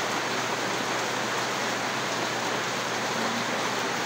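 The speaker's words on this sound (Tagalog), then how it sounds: "Ulan na po siya." Rain falls steadily outdoors at a house under repair, a constant broadband hiss of drops with no breaks or voices.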